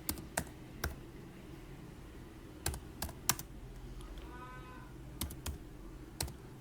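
Keys on a computer keyboard are tapped in short, separated bursts while a brand name is entered, giving sharp nearby clicks over a quiet, faintly hissing room.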